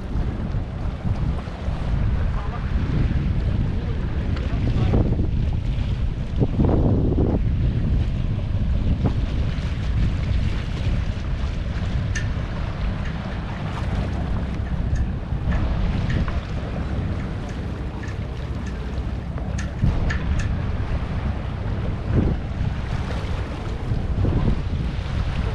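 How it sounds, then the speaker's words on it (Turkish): Strong wind buffets the microphone on the water as sailboats head back after a sailing race, with a steady roar of gusts, waves and hull noise throughout. "Bugün güzel rüzgar vardı."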